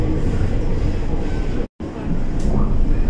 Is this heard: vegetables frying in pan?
no